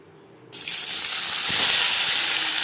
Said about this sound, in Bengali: সবার প্রথমে পনির ভেজে নেব